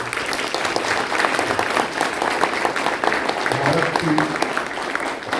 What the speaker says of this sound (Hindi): और एक बार डैन फ्लाई के लिए जोर से ताली बजाएं